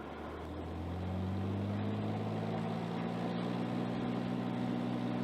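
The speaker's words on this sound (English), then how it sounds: "So we're going to go ahead and give her full power." A Piper Archer light airplane's engine runs at full power for takeoff, a steady droning hum with strong low harmonics that swells in the first second and then holds constant inside the cabin.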